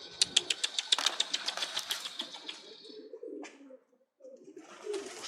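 Pigeons coo in a quick run of rhythmic, throaty pulses close by, then trail off into a brief hush before softer sounds resume.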